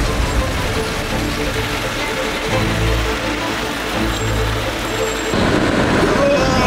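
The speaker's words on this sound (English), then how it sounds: "We can stay here and wait out the rain if you want." Rain falls on a camper van in Mexico, a steady close patter and hiss over a low continuous rumble that lasts throughout.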